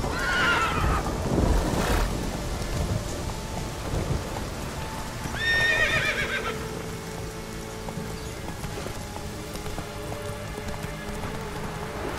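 The horse Roach whinnies twice in The Witcher 3 during a heavy rainstorm, with rumbling thunder and steady downpour throughout and the high, quavering neighs rising above the storm.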